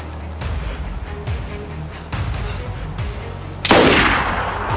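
Gunfire in the survival game DayZ: a series of sharp rifle reports spaced a second or so apart, then a loud nearby shot with echo, heard over ambient wind and game background.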